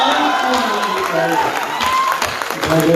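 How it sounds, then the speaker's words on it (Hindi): A large crowd at a New Year poetry gathering in Ayodhya applauds loudly and continuously, a dense wash of clapping with voices mixed in throughout. "मेरे भरपूर तालियां लेकर विदाई करें"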